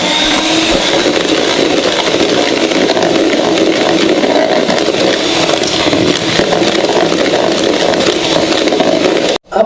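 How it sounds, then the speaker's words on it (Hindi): Electric beater whirring through brownie batter after cocoa powder is added, a loud steady motor drone with gritty mixing texture that runs unbroken for most of the stretch before cutting off abruptly. "वो हम डाल देंगे और फिर से बीटर चलाएंगे"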